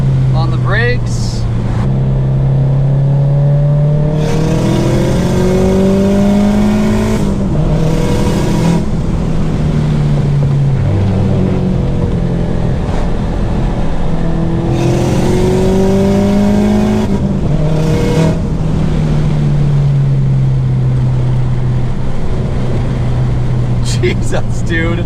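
A Subaru STI fitted with an external wastegate pulls hard from first gear, its loud engine note climbing through gear after gear with sharp shifts between, while voices talk over the roar.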